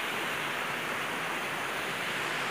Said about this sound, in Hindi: ये है जो ऊपर से पानी बहकर यहाँ इस तरीके से गिर रहा है।